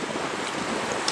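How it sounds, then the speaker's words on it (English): Steady wind blowing at a Hawaii beach, a broad continuous rush that blends with distant surf, with no talking. "It's a bit windy."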